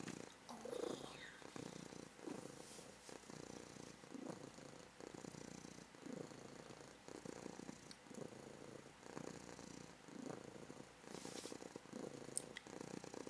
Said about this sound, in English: she purrs for so long and so loud and so aggressive that she coughs